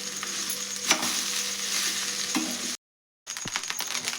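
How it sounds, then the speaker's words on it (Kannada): Tempering is stirred into cooked rice in a pan, with soft sizzling, spoon scrapes and light clinks, broken by a short silent gap before the stirring resumes. "ಈಗ ಎಲ್ಲ ಒಗ್ಗರಣೆ ಅನ್ನಕ್ಕೆ ಮಿಕ್ಸ್ ಮಾಡ್ಬೇಕು ನೋಡ್ರಿ"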